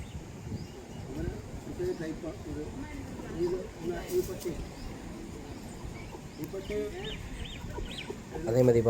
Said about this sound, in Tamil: இந்த மாதிரி வீட்டில் கோழி வளர்ப்பாங்க.